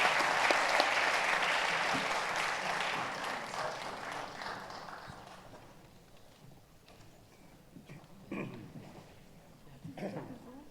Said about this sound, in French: je vous prie de les applaudir bien fort